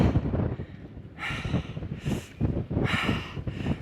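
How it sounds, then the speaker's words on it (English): Cold wind blusters across a mountain trail along the Continental Divide in well-below-freezing weather, a low rumbling roar buffeting the microphone in surging gusts with rushing hiss bursts. "We need to get out of this wind."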